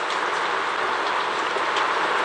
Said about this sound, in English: The wind and rain are now driving at a pace.